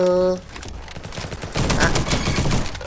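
Rapid gunfire in a first-person shooter video game, dense bursts of shots filling most of the clip after a short tonal game sound at the start, loud and continuous with a voice faintly underneath.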